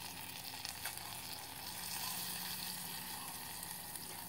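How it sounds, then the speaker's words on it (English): Egg product and rice fry together in a metal canteen cup, giving a steady, close hiss of sizzling with faint crackles that keeps up throughout. "We're going to put the eggs product in here now."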